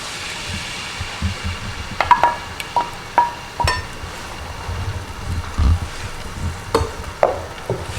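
Ginger garlic paste frying in oil for a beef karahi, a soft sizzle under scattered scraping and clinking of a spoon against the pot, close and fairly quiet.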